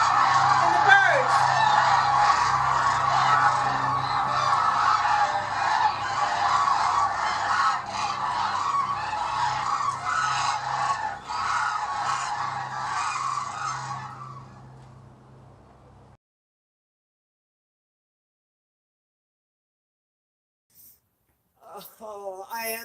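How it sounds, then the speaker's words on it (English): Geese honking with other birds calling, a dense, loud flock chorus for about fifteen seconds before falling silent, then a few faint calls return near the end. "And the birds."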